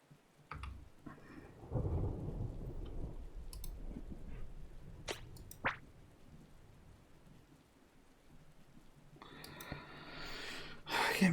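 A video-game thunderstorm, with rain pattering throughout, a deep thunder rumble early on, a few sharp cracks midway and a fresh burst of heavy rain near the end.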